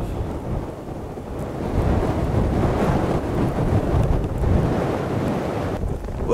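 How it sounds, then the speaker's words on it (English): Strong wind roars steadily on a cold winter white-out day over frozen Gull Lake, a loud, continuous buffeting that batters the microphone with low rumbling gusts and no voices. "She's a windy, cold day."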